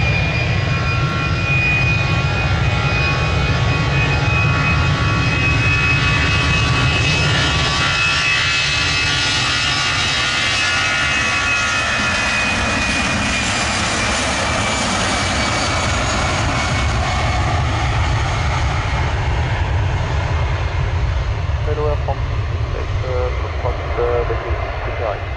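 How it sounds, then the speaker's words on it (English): Aircraft engines roar at Manchester Airport, a loud, continuous, broad jet roar with a whining tone that holds steady for the whole stretch, and a voice faintly underneath. "of course, Manchester Airport."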